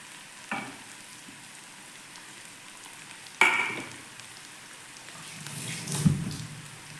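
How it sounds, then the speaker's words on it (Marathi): Onion frying in a pan with salt, turmeric and spices for a quick tomato curry: a soft, steady sizzle broken by a few spoon clinks and stirring scrapes against the pan, no voices. "कांदा भाजत आलाय आता त्यात मीठ, हळद व मसाले टाकूया"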